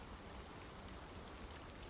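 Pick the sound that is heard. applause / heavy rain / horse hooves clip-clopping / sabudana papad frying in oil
heavy rain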